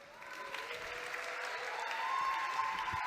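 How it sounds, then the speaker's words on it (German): Applause from an audience at a song contest final fills the room as a performer is welcomed, a steady dense wash of clapping that swells slightly toward the end. "So a big round of applause. Einen großen Applaus."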